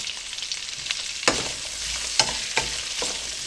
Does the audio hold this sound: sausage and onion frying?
yes